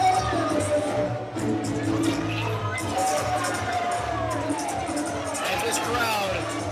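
A wrestling crowd at an independent show in Port St. Lucie, Florida cheers and chatters steadily, a dense hubbub with scattered shouts and whistles swelling near the end while a commentator talks over it.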